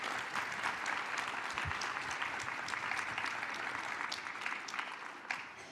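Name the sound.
audience applauding the panel at a conference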